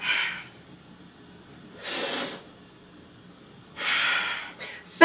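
Audible breaths in an exercise class, three separate breathy whooshes spaced a couple of seconds apart with quiet gaps between them, close and moderately loud, followed by a brief voiced sound at the end.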